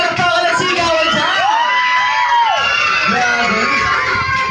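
Guests at a children's Jollibee party shout and cheer loudly, with whoops and excited voices filling a noisy crowd, close and continuous.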